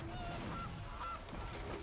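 The Gilded Goose card in the MTG Arena digital card game lets out a couple of short, faint goose honks over a soft background hum.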